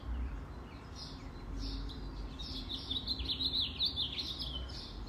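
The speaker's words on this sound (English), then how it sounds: "Begin to notice the birds." Wild birds in the Pacific Northwest chirp and sing outdoors, a busy mix of high tweets and trills over a low steady background rumble, moderately near and continuous with no talk.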